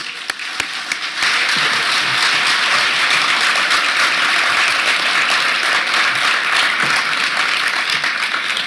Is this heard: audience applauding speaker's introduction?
yes